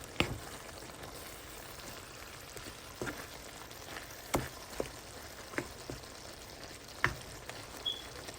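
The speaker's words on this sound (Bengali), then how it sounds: "একটু নেড়ে দিব ধনিয়া পাতাগুলো যেন উপরে নিচে যায়" Dried shrimp curry frying in a pan as coriander leaves are stirred through, a faint steady sizzle broken by scattered soft taps and scrapes of the spoon.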